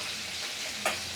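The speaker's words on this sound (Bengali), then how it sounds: "এবার আমি তেলে ফোড়ন দিয়ে দেব।" Spices, a bay leaf among them, tempering in about two spoons of hot oil for a village-style thin fish curry with taro: a steady faint sizzle with a brief stirring scrape near the end.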